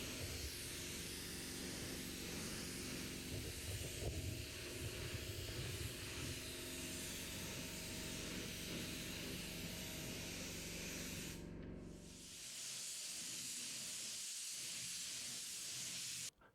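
Steady, loud spray-gun hiss as paint goes onto a Mitsubishi Evo 6 fuel tank, running continuously for about eleven seconds, breaking off briefly, then resuming before stopping abruptly.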